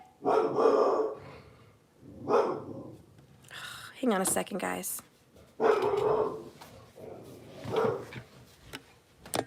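A pet dog barks and growls indoors in several loud, close bursts, interleaved with someone talking.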